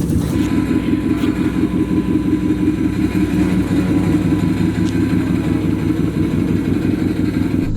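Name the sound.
car engine running with Mountain Dew as coolant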